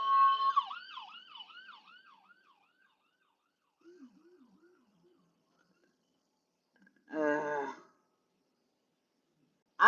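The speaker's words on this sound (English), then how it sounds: "There's an ambulance." A distant ambulance siren warbles quickly then fades, returns faintly, followed by a short louder burst of a different tone; otherwise quiet.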